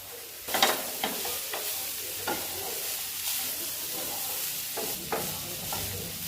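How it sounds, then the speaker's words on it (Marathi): A vegetable mixture of tomatoes and salai (Boswellia) fruit is stirred in a pan, with soft scraping strokes over a steady low sizzle, close and fairly quiet, with no talking. "आणि हे सर्व मिश्रण चांगलं मिक्स करून घ्यायचं आहे"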